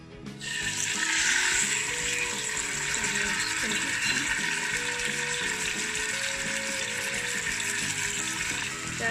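Saffron chicken sizzles in hot oil in a pan, making a steady bright crackle and hiss that stays up close throughout.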